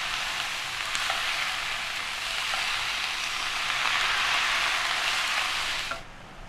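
Ground beef frying in a pan with softened onions, a steady broad hiss of sizzling at moderate level with faint stirring, ending abruptly.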